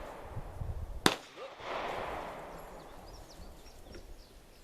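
A cannon fired on a shooting range in a turkey-hunting setting: one sharp, loud bang followed by a rumbling decay over steady outdoor background noise.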